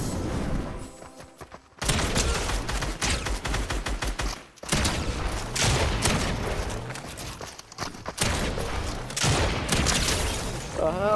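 Dense, loud Striker AR assault rifle fire fills Fortnite gameplay, with rapid shot bursts, brief pauses and booming impacts throughout, and a voice talks over parts of it.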